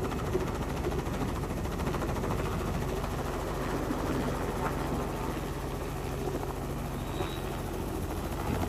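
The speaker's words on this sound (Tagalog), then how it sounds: "Yung black chopper natin na nagpunta na dito, lumipad na siya." A black helicopter flies away over the sea during a fishing operation, its rotor producing a steady, even whirring drone that stays constant and moderately distant throughout, with faint background noise.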